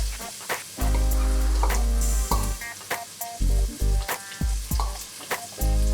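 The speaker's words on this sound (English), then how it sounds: "our oil has been heating here now in the pan, and first we're going to add our onions and spice and garlic and ginger mix" Onions, spices, garlic and ginger frying in hot oil in a pan over a low flame for a Moroccan vegetable tagine, with loud close sizzling broken by repeated stirring and scraping strokes.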